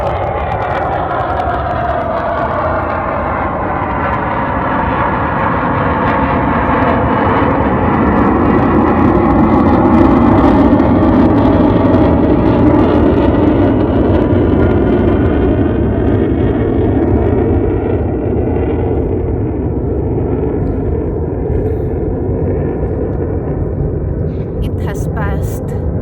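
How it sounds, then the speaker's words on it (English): A jet plane flying overhead makes a continuous, loud, low roaring rumble that swells gradually and then holds steady for a long stretch outdoors. "It looks like a jet plane."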